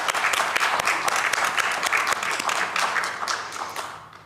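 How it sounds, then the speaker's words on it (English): Student audience applause for the winning dorms, Sheepcoat and Crampton, at Saint Johnsbury Academy, a strong, steady burst of many hands clapping that tapers off at the end. "So round of applause."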